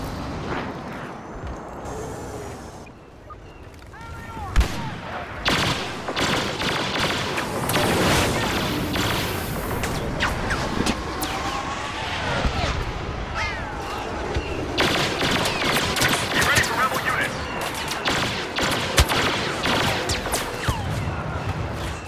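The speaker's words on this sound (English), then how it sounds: "I'm getting shot from so many angles, from so many different angles" Video game gunfire rattles from several directions in rapid overlapping bursts and volleys, mixed with booms and impacts, sustained and loud throughout with only a brief lull early on.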